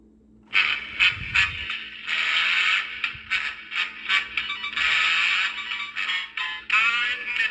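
Mr. Snowmiser animated figure's motor and gear mechanism running after a control-board repair, a loud close whirring and ratcheting drone that stops and restarts in irregular bursts.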